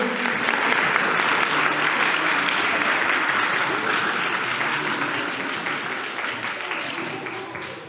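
An audience at a Sunday School Christmas program applauds in a long, dense wash of clapping that holds steady and then slowly tapers off, with murmured voices underneath.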